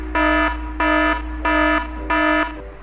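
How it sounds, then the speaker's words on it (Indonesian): A SCADA monitoring software alarm for a pulp and paper machine beeps four times in an even rhythm when temperature exceeds the set point, loud, bright, buzzy tones with short gaps, over a low steady hum. "ketika melebihi set point maka alarm akan berbunyi"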